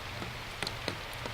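Rain falling in the visual novel game Symphonic Rain, a steady soft patter with a few sharper drops standing out, heard alone with no talking.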